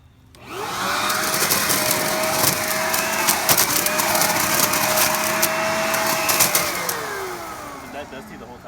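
A Craftsman 12-amp corded electric blower/vacuum/mulcher spins up and runs with a loud, steady whining roar and airy rush, holding for about six seconds before winding down, with rattling debris throughout.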